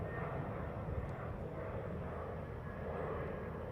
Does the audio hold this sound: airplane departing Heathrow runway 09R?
yes